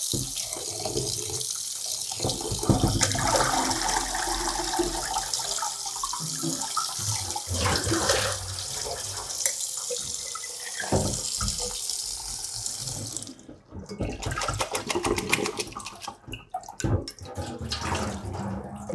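Running tap water rinsing salted cucumber slices for a sweet-and-sour sunomono salad, a steady close splashing hiss that continues throughout with brief dips as the flow shifts.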